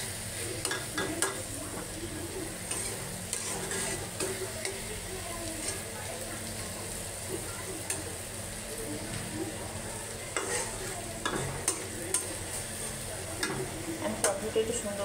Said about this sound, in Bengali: আমি টমেটোটা একটু সুন্দর করে কষিয়ে নেব।